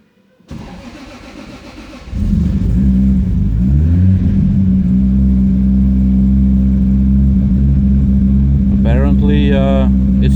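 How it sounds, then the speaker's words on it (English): A rebuilt Toyota Supra single turbo engine cranks briefly, catches and settles into a loud, steady, rough idle close by, with a voice speaking near the end. "now, for the first time after the rebuild, we're gonna try to start it for the first time"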